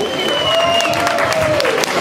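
Applause from the audience at a children's carnival in Petrovice, a dense steady wash of clapping with crowd murmur and cheering, loud and continuous throughout.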